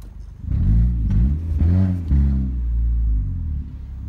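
A Honda Civic with its exhaust tailpipe tip removed revs in several loud, rumbling bursts that rise and fall close by, the deep engine drone swelling twice and settling back to idle.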